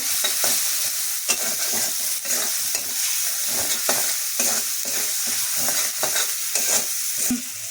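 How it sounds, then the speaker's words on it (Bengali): Spices with salt and turmeric being sautéed in a pan for a fig and potato curry, a loud continuous sizzle broken by repeated scraping strokes of a spatula stirring at a quick, uneven rhythm, close up and without talk. "হলুদ মশলা আবার কষিয়ে নেব"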